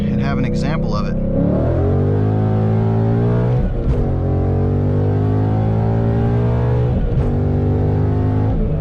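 A 2016 Ford Mustang GT with bolt-on modifications accelerates hard, its loud engine note climbing through rising revs and dropping at each gear shift, up close, with a voice briefly heard at the start.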